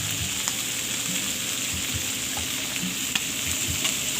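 Shrimp sizzle and crackle steadily in a hot pan, a close, constant frying hiss dotted with small pops and the odd scrape of stirring, with no one speaking.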